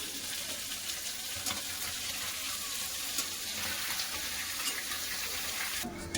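Green chilli and cumin paste frying with spices alongside small shrimp, a steady broadband sizzle with faint stirring scrapes throughout, close and continuous with no talk.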